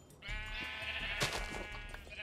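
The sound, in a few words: sheep bleating in Minecraft (Tekkit) video game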